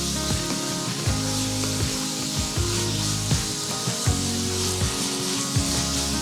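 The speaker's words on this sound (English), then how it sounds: "And I'm going to stir this around, get the seasonings all mixed in real well." A spoon scrapes and rubs around a pot of browning turtle meat tossed with Creole seasoning, giving repeated close scraping strokes in a steady rhythm with faint sizzling underneath.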